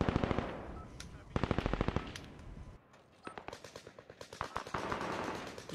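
Rapid automatic gunfire in the Warzone video game, loud close bursts of dense rattling shots with a short pause midway, then more sustained firing.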